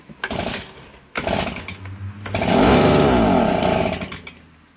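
A STIHL BG85 petrol leaf blower takes two short pull-start attempts that sputter, then catches and runs with a loud, rough two-stroke roar for about two seconds before dying away.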